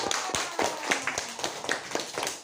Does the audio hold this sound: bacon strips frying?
no